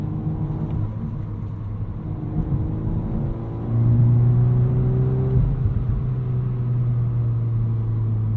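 A 2022 Volkswagen Golf R with a six-speed manual revs hard from inside the cabin, the engine drone climbing to a steady held pitch at the rev limiter before easing off, loud and continuous with no talk.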